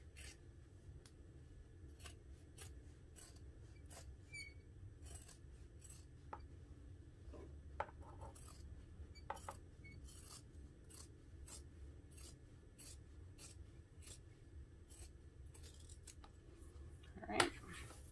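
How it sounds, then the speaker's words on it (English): Scissors snip through stocking fabric layered with vinyl, leather or cork, trimming close around the toe and heel in a steady series of short, crisp cuts, close and moderately quiet, with a louder snip near the end. "I'm cutting it even a little bit closer than a quarter of an inch around the toe and the heel"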